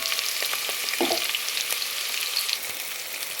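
Sliced large onions fry in hot oil, giving a steady close sizzle throughout with a few faint stirring scrapes.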